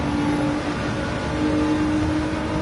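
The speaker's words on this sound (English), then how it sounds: "Trying to listen into the engine." Race car engine heard from an in-car camera during a Cup Series stock car race in a racing video game, a loud steady drone holding near-constant revs throughout with no talk.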